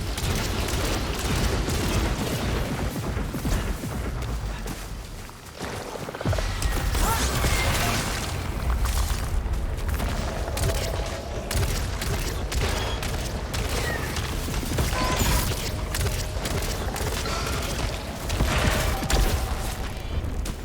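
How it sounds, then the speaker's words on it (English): Grenade and rocket-launcher explosions from the video game Returnal, a dense loud barrage of booms and blasts firing rapidly through the whole stretch, with a brief lull midway and mechanical weapon and impact noises layered throughout. "I can do damage on enemies without while being protected by walls and stuff thanks to the explosions of grenades"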